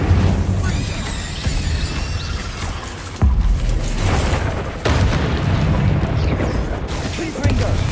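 Fire and blast spells in the Hogwarts Legacy video game go off as booming in-game explosions, with sharp bursts near 3 and 5 seconds over a continuous loud rumble of combat.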